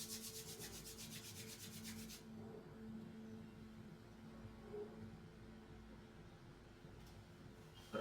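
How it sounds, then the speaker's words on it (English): Fingertips rub over the hands and face during a yoga practice, giving a soft, steady friction hiss. A brisk rhythmic rubbing of the palms is heard first, then gentler continuous rubbing, close and quiet with no talk. "rub your complete face. Observe the energy in your fingertips. Rub your ears, neck, your eyes."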